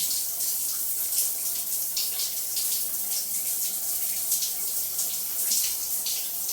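Water gushing steadily from a newly installed bathroom pipe, a loud continuous hiss and splash with no pauses, close by and alone.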